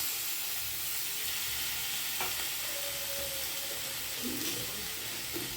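Tamarind water goes into a sizzling pan of egg curry, with a steady frying hiss and faint splutters throughout.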